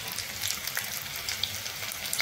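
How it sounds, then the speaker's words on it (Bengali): Chicken pakoras deep-frying in hot oil give a steady, bright sizzle with small crackles and pops, close and continuous, no voices. "কিন্তু টাইম দিয়ে ভাজতে হয়, যাতে ভেতরটা খুব ভালোভাবে হয়ে যায়"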